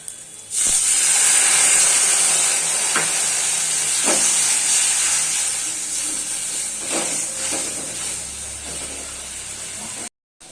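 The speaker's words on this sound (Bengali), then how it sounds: "তো ঝোলটা কিছুক্ষণ ফুটবে, তারপরে আমি মাছটা দেব।" Fish curry gravy bubbles and steams in a pan after water is added, giving a loud, steady hiss with a few soft knocks, cutting off abruptly near the end.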